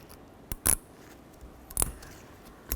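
A thin metal shim clip on a 2006-2012 Ford Fusion rear brake gives three sharp, bright metallic clicks and scrapes as it slides into place, close up with quiet background between.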